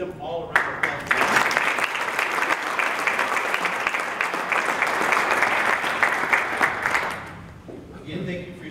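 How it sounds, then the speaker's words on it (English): Audience applause at a Rotary club meeting: a sustained burst of clapping from a seated crowd lasting about six seconds, loud and dense, then tapering off as a voice resumes. "let's give them all a round of applause."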